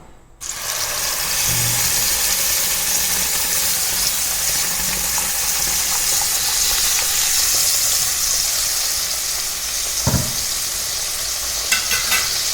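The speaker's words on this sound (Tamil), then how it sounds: "அதில் அந்த நெய்யிலே கொஞ்சம் வதக்கி எடுத்துக்கலாம்." Ground fruit pulp sautés in ghee while being stirred for a three-fruit halwa, a loud dense sizzle that starts abruptly and holds steady, with one heavier scraping knock partway through and light stirring clicks near the end.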